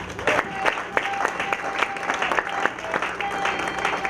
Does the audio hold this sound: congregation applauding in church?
yes